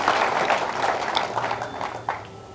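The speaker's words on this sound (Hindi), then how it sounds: "एक जोरदार तालियां" An audience at a children's program claps in a moderate, fairly brief burst that softens over a couple of seconds, with a lone sharper clap near the end.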